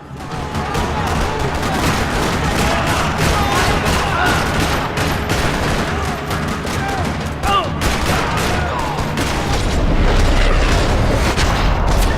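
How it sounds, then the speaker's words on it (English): Heavy gunfire rattles through a parking lot shootout in the video game Max Payne 3: loud rapid bursts and overlapping shots with booming impacts, continuous throughout. "Another parking lot rattling with gunfire."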